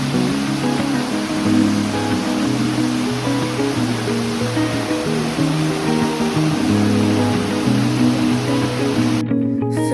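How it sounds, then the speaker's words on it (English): A small nameless waterfall on the Netravathi trek near Kalasa gives a loud, steady rushing roar throughout, with low sustained tones layered over it, cutting off abruptly at the very end. "This was our first pit stop, a nameless waterfall."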